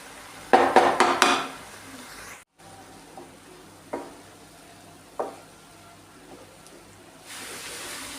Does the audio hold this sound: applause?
no